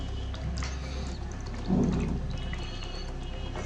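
Water being poured into a cheap ultrasonic cleaner, a brief splashing gush in the middle of a quiet stretch with faint handling noises around it.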